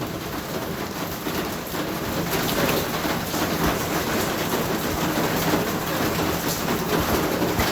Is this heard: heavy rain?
yes